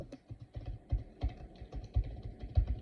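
Fingers typing a name on a computer keyboard, giving a quick, uneven run of close, crisp key clicks with short pauses between bursts and no talking.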